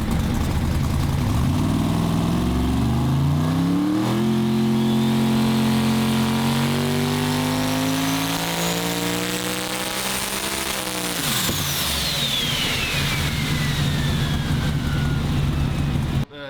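A race car engine loud and close during a lap at a racetrack, freshly serviced with new oil and spark plugs, its pitch climbing through the gears, peaking, then dropping off as it slows, with no talk.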